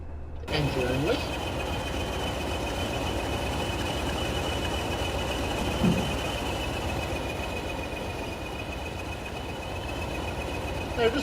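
A BLS class 220 locomotive engine runs with a steady, deep diesel rumble and a constant high whine, close by and unbroken, with brief faint voices.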